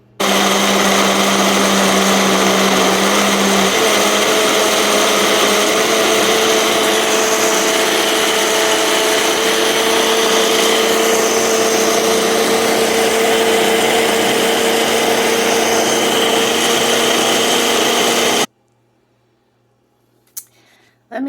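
A Ninja blender whirs loudly and steadily as it blends almond butter with water, a dense motor roar holding for about eighteen seconds before cutting off abruptly into near silence.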